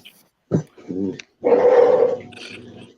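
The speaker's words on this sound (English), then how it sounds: "I heard barking." A dog close by gives a couple of short barks, then a longer rough growling bark trailing off.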